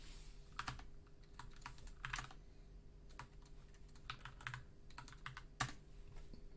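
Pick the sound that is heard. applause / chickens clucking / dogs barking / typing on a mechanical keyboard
typing on a mechanical keyboard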